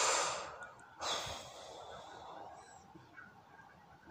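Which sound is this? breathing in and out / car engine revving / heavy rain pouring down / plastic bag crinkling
breathing in and out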